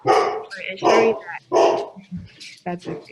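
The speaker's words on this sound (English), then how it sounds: "Sorry, that's my dog." A dog barks repeatedly in the background during an online business webinar, sharp loud barks coming in a rough rhythm about every half second to second, mixed in with someone speaking.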